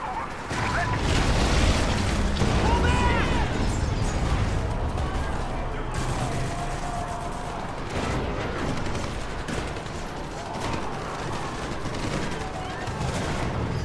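A firing squad opens up in the video game Prototype, with sustained, heavy volleys of gunfire and booming impacts rolling on throughout, partly under voices talking.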